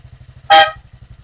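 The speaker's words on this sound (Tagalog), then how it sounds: "Pag nagbusina tayo" A Motorstar 110 motorcycle horn gives one short, loud honk over the steady putter of the small idling engine.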